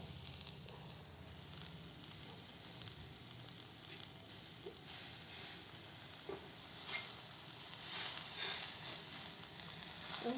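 Food sticks on a home grill giving a continuous, low-level sizzling hiss with occasional faint pops, steady and close for about ten seconds with no talk.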